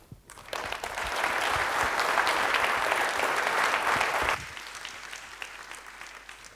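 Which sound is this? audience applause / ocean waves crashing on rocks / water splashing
audience applause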